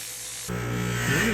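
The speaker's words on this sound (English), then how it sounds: "At this point, we're going to be cleaning and polishing the ring." A rotary polisher spins up against a ring during cleaning and polishing, a steady whirring hum that jumps louder partway through and holds at a close, constant level with a rising whine near the end.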